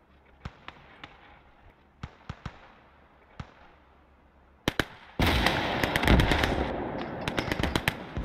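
Gunfire in the World War II game Gates of Hell: Ostfront. Scattered single sharp shots come first, then a dense, loud stretch of rapid automatic fire with overlapping cracks. No voices are heard.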